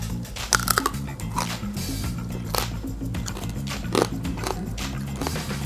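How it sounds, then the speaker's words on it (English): Someone bites into hard, crispy pork belly skin, giving repeated sharp crunches and cracking snaps. The crunching is close and comes in irregular bursts over a low background hum. "This definitely has a crunch to it"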